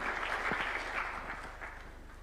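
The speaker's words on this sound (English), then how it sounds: "Kindly, let's welcome him with a clap" Audience at a State House bill-assenting ceremony in Nairobi, Kenya, clapping to welcome the Cabinet Secretary; steady, moderately faint applause under a low hum, continuing evenly throughout.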